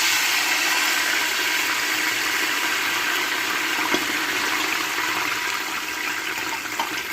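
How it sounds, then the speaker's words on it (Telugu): Water pours steadily into a pan over fried cumin seeds, a continuous close hiss and gush with slight sizzling, while undrallu are cooked. "వేగిపోయాక మీరు నీళ్లు పోయాలి."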